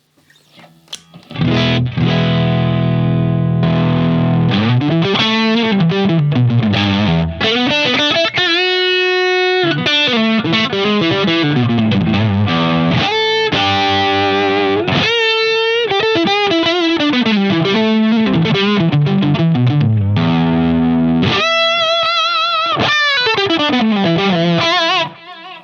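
Electric guitar driven through stacked overdrive pedals, a loud, saturated lead with sustained bent notes and melodic phrases that enter after a brief pause and run continuously, with no talking.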